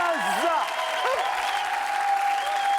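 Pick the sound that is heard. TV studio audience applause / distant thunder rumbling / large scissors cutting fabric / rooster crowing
TV studio audience applause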